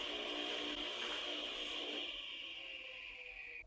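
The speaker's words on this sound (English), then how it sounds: "Then turn the board around and cut the other slot." A 1980s Sears Craftsman table saw cutting a slot in a wooden board, a steady high whine with a lower grinding note under load that eases off near the end, close and loud with no talk.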